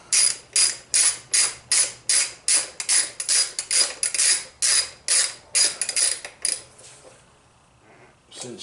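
Ratchet wrench tightening a bolt on a Repsol motorcycle rear brake master cylinder during a rebuild, about fifteen loud, close, evenly spaced metallic clicking strokes that then stop.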